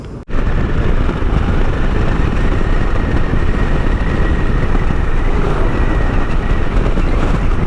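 Road train truck hauling three trailers passing close on an Australian highway between Mount Gambier and Adelaide, a loud sustained rumbling roar that stays heavy throughout after a brief quiet start.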